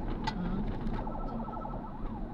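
An ambulance siren wails through city traffic on the route from SM Mall of Asia to Batasan Hills, a faint, wavering electronic tone over the low rumble of cars and road noise.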